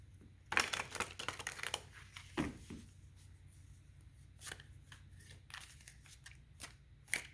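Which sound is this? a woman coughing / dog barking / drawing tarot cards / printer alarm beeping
drawing tarot cards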